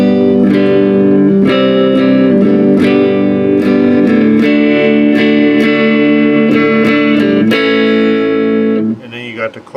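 A Fender Telecaster electric guitar rings out loudly with sustained, distorted chords and repeated strummed attacks, then fades briefly at the end; no talking over it.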